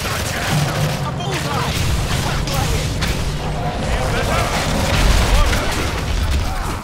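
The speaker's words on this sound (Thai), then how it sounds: "โดนระเบิดอย่างเดียวตอนนี้" Explosions in the video game Evolve, in a Meteor Goliath battle, come as dense, loud, overlapping booms and bursts with gunfire mixed through, forming a continuous barrage.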